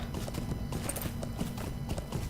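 Horse hooves clip-clop steadily in Lord of the Rings Online as the horse travels through the Chetwood Forest, a close, regular rhythm of hoof falls with a faint background bed and no talking.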